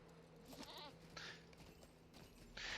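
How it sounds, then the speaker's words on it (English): Goat bleats from the video game LOTRO, given as a Christmas goat: three short wavering bleats spread over a few seconds, moderately loud against a steady game background with no talk. "Jingles the Christmas Goat."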